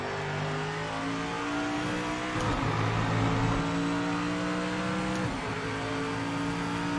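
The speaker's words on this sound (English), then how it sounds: "The car sounds great." A Porsche racing car engine in a racing video game revs and drones steadily, its pitch rising and dropping sharply twice as gears shift, loud and continuous.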